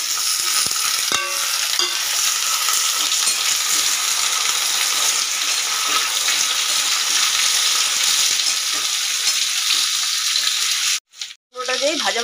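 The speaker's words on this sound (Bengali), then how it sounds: "হাই ফ্লেমে ভেজে নিচ্ছি আলু" Potatoes fry on a high flame, a loud, continuous sizzle and crackle with a couple of brief utensil knocks early on, cutting out abruptly near the end.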